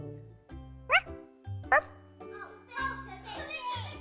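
A child imitating a puppy yips twice in short, high barks, then more childish vocalizing follows over a steady low hum.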